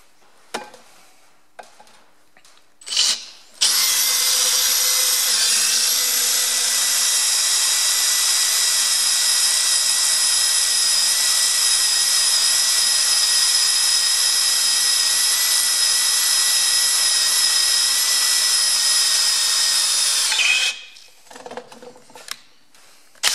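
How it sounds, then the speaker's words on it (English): A power drill boring into the broken brake drum of a Ferguson FE35 tractor, a loud continuous high whine lasting about seventeen seconds, preceded and followed by brief clanks and handling noise. "the drill didn't bite in there"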